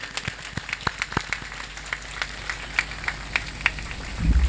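Scattered hand claps from an audience at a ceremony, sparse and uneven rather than a full ovation, with separate sharp claps spread through and a brief rustle near the end.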